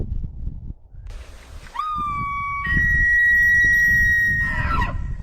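A Roosevelt bull elk bugles once, a rising whistle that climbs into a long, high, pure sustained tone with harmonics, then breaks into rough grunting chuckles at the end, loud and clear over low outdoor background noise.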